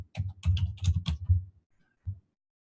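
A computer keyboard is typed in a quick burst of clustered keystrokes as a street address is entered, close and fairly quiet, then a pause and one last keypress.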